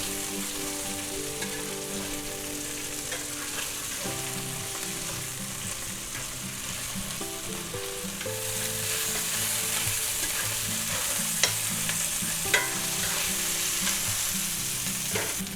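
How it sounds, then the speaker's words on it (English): Chopped onions sizzle steadily in a hot pan for fried rice while a utensil stirs them, scraping and clicking now and then. The hiss stays loud and close throughout, with no talk. "Stir them in a little bit here and fry them up good."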